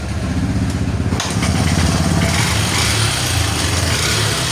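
A Honda CB 125 motorcycle engine sputters to life and keeps running loudly and steadily close by, with a rough, slightly rattly idle from a worn cam chain.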